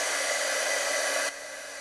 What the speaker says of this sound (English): I'm just going to heat emboss.